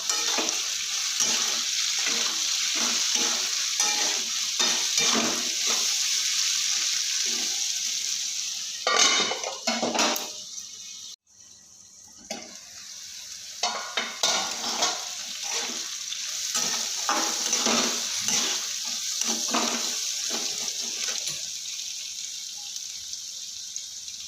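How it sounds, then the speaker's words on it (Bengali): Potatoes fry in a covered pan, a steady close sizzle broken by repeated scraping stirs and brief clatters, with a short dip near the middle before the frying resumes. "এইভাবে ঢাকা দিয়ে দিয়ে আমি ভেজে নিচ্ছি"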